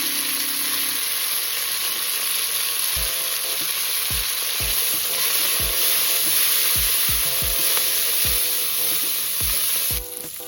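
Onions frying for biryani with chopped mint and coriander hiss in a loud, constant sizzle, with repeated low knocks and scrapes of stirring running through, close up and without voices.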